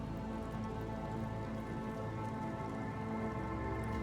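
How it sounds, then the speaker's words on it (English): A rain spell cast in the video game Divinity: Original Sin gives a steady, dense patter of falling rain that fills the whole stretch evenly, with no break in the wash of droplets. "I'm gonna make it rain on them."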